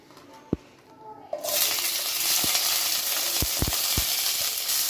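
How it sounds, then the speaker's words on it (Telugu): Green chillies frying in oil in a pan for a ridge gourd and tomato chutney, a steady loud sizzle starting after a quiet moment, with a few sharp pops and clicks scattered through it. "పచ్చిమిర్చి టూ మినిట్స్ అట్లా బాగా ఫ్రై చేసుకొని పక్కన తీసుకెట్టుకోవాలి"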